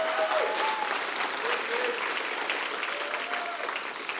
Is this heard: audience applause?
yes